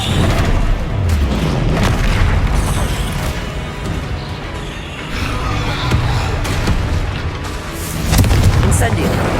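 Repeated booming Confringo spell explosions in Hogwarts Legacy sound over dense, continuous combat noise, loud and close, with a heavier burst near the end.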